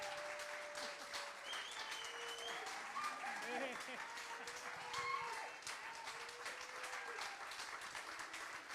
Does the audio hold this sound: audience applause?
yes